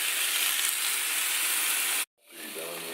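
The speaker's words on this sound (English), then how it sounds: "Sizzling." Loud, close sizzling of protein waffle batter frying in a hot pan, a steady hiss that cuts off abruptly, then returns more softly.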